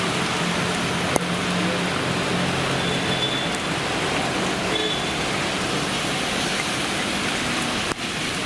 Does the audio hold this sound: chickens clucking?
no